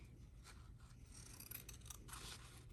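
Scissors trim a fabric seam allowance during sewing, giving a few quiet, close snips and scraping cuts with no talking.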